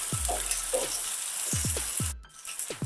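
Ginger paste sizzling in hot oil in a pan while it is stirred for a Telugu-style chicken fry, a steady close frying hiss broken by several low scraping strokes of the spoon, with a brief dip near the end.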